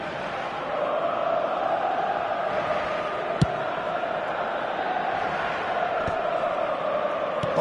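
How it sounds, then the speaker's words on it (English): Stadium crowd in an eFootball video game, a steady broad roar of cheering throughout with a couple of brief sharp accents, loud and continuous with no talk. "Certainly gave this crowd something to really cheer about."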